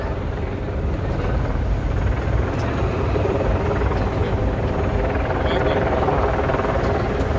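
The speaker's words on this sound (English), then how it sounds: "Helicopters above." Helicopters flying over downtown Chicago give a steady, loud rotor rumble that blends with dense city street noise for the whole stretch.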